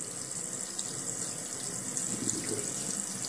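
Tap water runs steadily for rinsing after tooth brushing, a soft continuous splashing stream at moderate distance with no speech over it.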